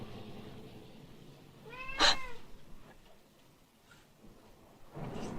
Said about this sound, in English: The cat gets restless in the presence of strangers.